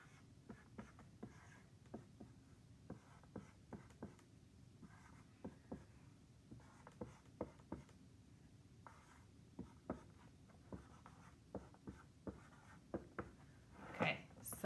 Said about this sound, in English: I'm going to write some down on the whiteboard